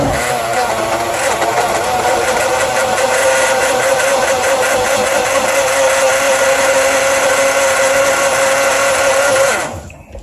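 A Hamilton Beach single serve blender mixes a vanilla milkshake, a loud steady motor whine running without a break for about nine seconds before cutting off abruptly, with no talk.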